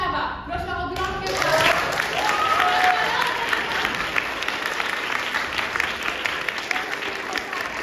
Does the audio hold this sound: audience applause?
yes